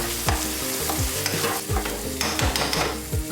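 Pieces of chicken curry scraped and stirred in a pot, with a spoon dragging across the bottom in repeated rhythmic strokes over a steady close sizzle, loud and alone.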